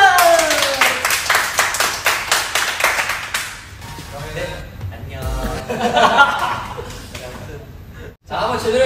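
A small group clapping quickly and rhythmically for a few seconds during an Instagram live session, followed by chuckles, laughter and lively chatter.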